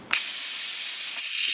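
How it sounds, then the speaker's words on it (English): Steam blasts from an Instant Pot's pressure valve during a rapid release after cooking hot dogs, a sudden loud, steady broadband hiss starting abruptly and continuing strongly without pause, close and alone. "We'll now let the pressure off, do a rapid release"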